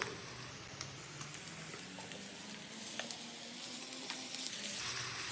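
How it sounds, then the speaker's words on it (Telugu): Ginger-garlic paste sizzles with chopped onions in hot oil for a chicken pulusu, a continuous fine crackling hiss with scattered small pops, soft and steady throughout, no voices. "ఒక స్పూన్ అల్లం వెల్లుల్లి వేసుకోవాలి"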